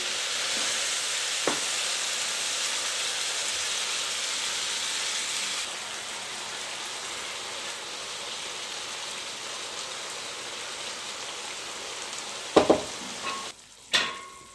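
Zucchini dish cooking in a pot with spices and bouillon, stirred while it simmers and sizzles in a steady wash of frying noise, followed near the end by a few sharp knocks of a spoon against the pot.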